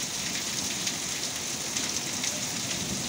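Heavy rain falling during a thunderstorm in Navarra, Spain makes a steady, loud, even hiss of drops hitting surfaces, with no thunder clearly standing out and no one talking.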